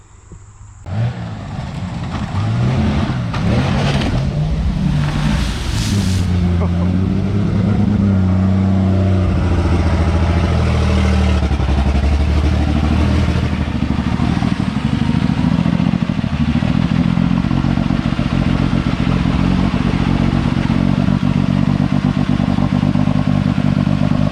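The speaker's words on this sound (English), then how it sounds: "So we're gonna see if the 24 valve can pull through the mud hole." A 24-valve 5.9L Cummins diesel in a pickup truck roars through a mud hole, revving hard and loud up close, the engine climbing and then holding a heavy, clattering drone for over twenty seconds with no talking.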